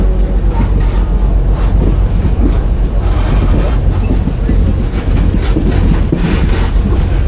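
Train running down a heritage railroad line during a freight photo charter, a steady loud rumble and rattle of cars on the tracks, with heavy wind buffeting throughout and no talk.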